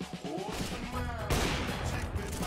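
An AWP sniper rifle fires through a wall in a professional CS:GO match, a sharp, loud crack amid game noise, with commentators' voices underneath.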